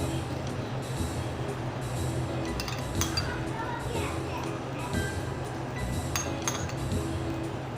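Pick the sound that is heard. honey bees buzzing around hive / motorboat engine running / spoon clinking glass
spoon clinking glass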